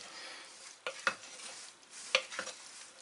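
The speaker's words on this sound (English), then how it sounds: "Now we're going to incorporate all these together." Potato salad ingredients stirred together in a bowl with a spoon, several soft scraping and clinking strokes at uneven intervals, close and quiet with no talking.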